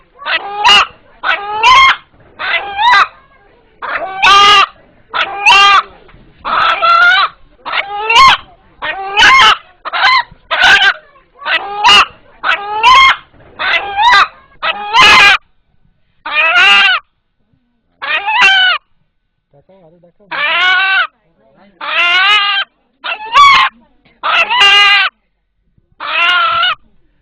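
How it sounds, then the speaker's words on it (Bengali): An eight-month-old rooster calls again and again in loud, close bursts, each cry short and harmonic, with brief pauses and one longer gap between them and no voices alongside. "এখানে উপস্থিত যারা এই মোরগের ডাক শুনলেন"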